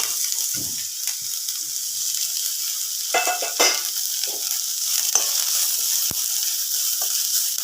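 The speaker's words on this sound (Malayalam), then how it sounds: "സവാളയും ക്യാരറ്റും ഒക്കെ അത്യാവശ്യം ഒന്ന് നല്ലതുപോലെ വഴണ്ട് വരണം" Onions and carrots sautéing in a pan give a steady high sizzle, with occasional stirring scrapes and clinks close by; no one talks.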